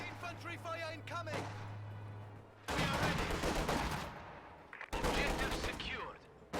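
Infantry gunfire and artillery in a World War II strategy video game, sharp volleys of rifle and machine-gun fire crackling in two loud bursts after a stretch of game voice chatter, with a low hum underneath.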